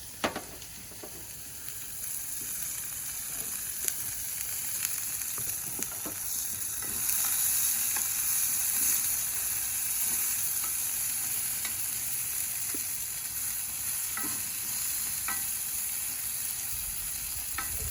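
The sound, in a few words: onions frying for butter burgers on the Big Green Egg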